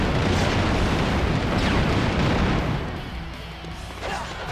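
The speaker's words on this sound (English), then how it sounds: "the bomb will explode" A bomb blast in Dynasty Warriors 4, a loud sustained roaring explosion that fills the scene and slowly settles into a rumbling decay.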